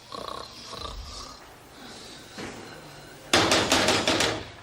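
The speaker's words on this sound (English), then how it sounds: "He was snoring." A person snoring in a low, rough rhythm, a few soft breaths, then a louder burst of harsh, repeated snorts near the end, close and without talk.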